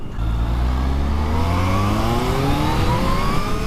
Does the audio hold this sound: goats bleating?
no